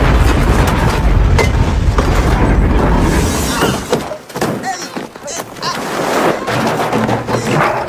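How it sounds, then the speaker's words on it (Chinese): A camp blows up in a monster film, a loud broadband blast followed by rumbling, crashing debris that tails off and then swells again, with a voice over part of it. "众人趴下的同时，营地也瞬间爆炸"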